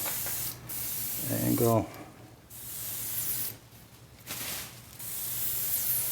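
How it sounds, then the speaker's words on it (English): A spray gun painting the fuselage of a quarter-scale Piper Cub model hisses in several sustained bursts with short pauses between them, close by, and a voice speaks briefly between sprays. "So you're going to spray some over here."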